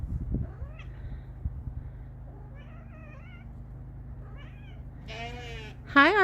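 A house cat on an off-grid homestead in North Idaho gives a few short meows, then louder, drawn-out meows near the end, over a low steady background hum.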